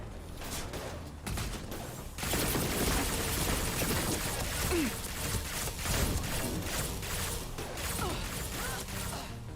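A submachine gun fires in the video game Mass Effect 2, steady rapid bursts of gunfire with mechanical clatter that carry through most of the stretch, dense and moderately loud.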